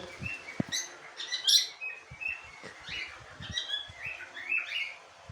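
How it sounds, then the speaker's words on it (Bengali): Lovebirds and cockatiels in an aviary of about forty pairs, chirping and squawking in short bright bursts, several birds calling over one another at moderate distance, no voices. "লাভবাট আছে ককাটেল আছে"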